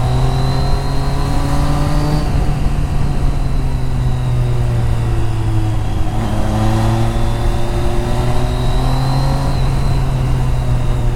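A superbike at full throttle accelerates hard through the gears, its loud engine note rising in pitch again and again, with short breaks at each shift.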